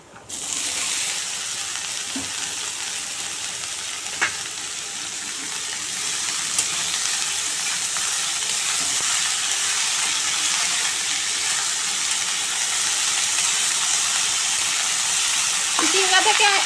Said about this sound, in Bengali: এবার আমি কেটে রাখা চিচিঙ্গাটা দিয়ে দেবো।